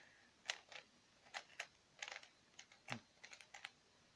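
A 3x3 speed Rubik's cube scrambled by hand, giving quiet, irregular bursts of plastic clicking and clacking as the layers turn, close up with no talking.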